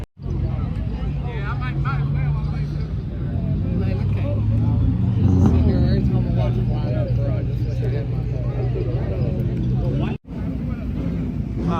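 Engine of an all-wheel-drive street car droning steadily and building at an outdoor night car meet before a first race, loud and continuous with a brief cut near the end, crowd voices talking over it.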